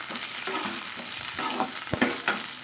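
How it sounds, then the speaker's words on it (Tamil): Okra sautés in a hot pan, a soft continuous sizzle broken by several spoon scrapes and taps, close by, no voices. "இப்போ இந்த வெண்டைக்காயை வந்து நல்லா வதக்கிட்டு"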